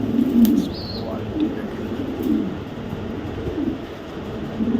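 Low, rolling coos of young Mili pigeons repeat steadily through the clip, several birds murmuring close by with no talking.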